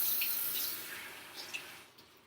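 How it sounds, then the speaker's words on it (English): Tap water runs steadily as a hand is rinsed under it, a close hiss of flowing water that tapers off with a few small splashes and drips. "And rinse off my hand."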